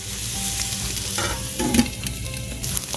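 Carrots, purple onions and yellow, red and orange bell peppers stir-frying in a pan: steady close sizzling with scraping stirs and a few sharper crackles, no voices.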